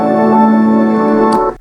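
Soft, relaxing AI-generated background music with sustained harmonic tones, playing steadily and fairly loud before fading out at the end, with no talking.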